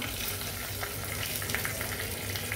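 Butter frying in a pan while cooking chicken korma, a steady dense sizzle with crackling and faint stirring, continuous and close with no talk.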